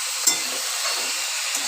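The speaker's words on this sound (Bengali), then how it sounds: "এবার এটা নাড়াচাড়া করব," Bitter gourd and potato pieces frying in a pan over a low gas flame, a soft steady sizzle broken by a brief scrape of stirring.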